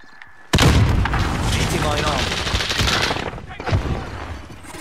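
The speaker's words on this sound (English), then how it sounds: "He threw a grenade." A grenade blast in Call of Duty Warzone erupts suddenly and loudly, then rumbles on amid dense gunfire and chaotic battle noise, with a second burst near the end and players talking over it.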